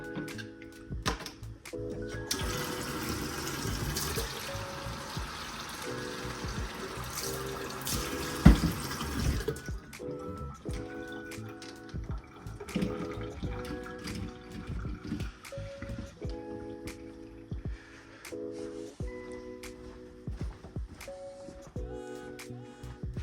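Water runs from a tap indoors for watering houseplants, a steady hiss for several seconds, then quieter trickling and splashing with clinks and knocks throughout.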